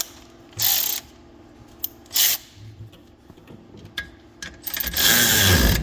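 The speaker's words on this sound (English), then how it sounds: "you can just use the ratchet to drive them back home" A ratchet drives 18 mm rear brake bolts back in on a 6th-gen Camaro ZL1, giving a few sharp bursts of clicking pawl with short gaps between them and a longer ratcheting run at the end, close and loud.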